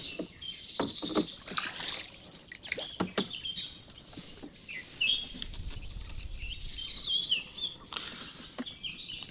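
A small boat moving on water at a crab-trapping spot, with soft paddle splashes and water patter close by, bird chirps scattered over the top and no talk.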